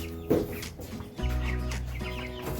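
Young chickens in a brooder cluck and chirp close by. One louder squawk stands out, then steady overlapping clucking follows with no one talking.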